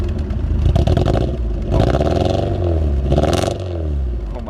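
A Porsche 944 engine that has not run in a long time, running on old fuel, given a couple of short, loud revs over a rough, clattering idle close by.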